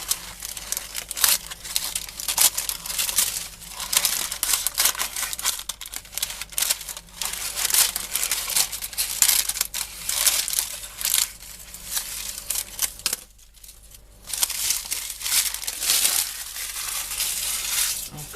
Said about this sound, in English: I'm going to remove excessive paper.